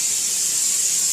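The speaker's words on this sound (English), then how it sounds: "Now I'm going to preheat the pan, or spray this on" Aerosol cooking spray hisses onto a pan in a home kitchen, one steady, close, bright hiss running about a second with no voices.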